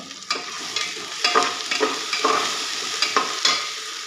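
Finely chopped green chillies, three of them, frying in hot oil in a pan for restaurant-style dal khichdi, a steady sizzle broken by repeated stirring scrapes and clinks at close range, with no talk.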